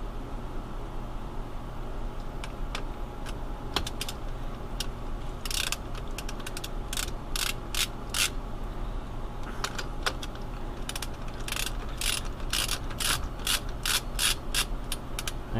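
A torque wrench set to 35 foot-pounds ratchets while being tightened. Crisp, close clicks come in irregular clusters that grow denser toward the end, over a steady low background hum.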